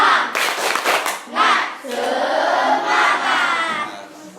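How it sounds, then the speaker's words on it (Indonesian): A classroom of schoolchildren does a rhythmic spirit clap, with bursts of quick clapping mixed with chanted shouts, loud and close. "Kita iringi dulu dengan tepuk semangat biar anak-anak semangat ya untuk mengikuti proses pembelajaran ya"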